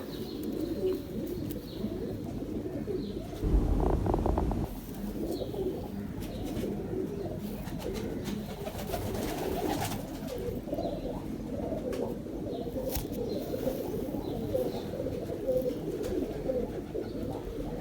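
Pigeons coo repeatedly in a loft, soft low throaty calls overlapping one another with occasional chirps and rustling, fairly close and continuous, with a brief louder bump of handling noise.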